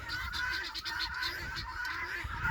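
A flock of guinea fowl calls continuously on a farm, with harsh, rhythmic honking cries overlapping at a moderate distance, faint and steady throughout.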